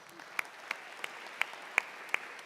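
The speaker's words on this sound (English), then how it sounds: "let's give ourselves a round of applause" A handful of faint, scattered claps, about six spaced strikes, ring out in a quiet room at a university Asian American and Pacific Islander graduation ceremony in a student recreation center.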